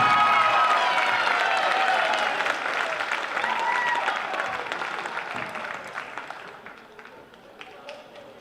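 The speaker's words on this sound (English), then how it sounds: "big round of applause whānau for Annika Williams Riding and Amo Webster" A crowd at a school basketball championship applauds steadily, loud at first and gradually thinning out, with scattered claps and a little cheering toward the end.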